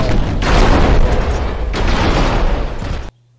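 Heavy naval guns boom in a battleship video game, a dense, loud barrage of deep rumbling blasts rolling continuously for about three seconds before cutting off abruptly.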